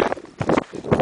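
A horse's hooves beat in quick rhythmic clusters while galloping along a trail, the hoofbeats loud and close with brief gaps between strides.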